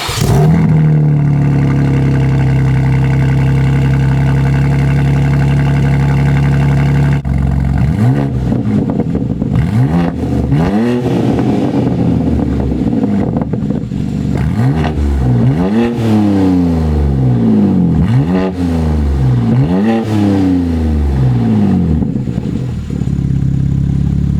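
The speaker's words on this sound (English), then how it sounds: "We're gonna give it a nice cold start, and I'll give it some baby revs as well." A BMW G80 M3 engine starts with a high, steady cold idle, then goes through a series of repeated revs that rise and fall, loud and close.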